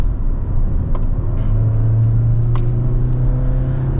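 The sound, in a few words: 2024 Mazda CX-90 crossover driving on a winding road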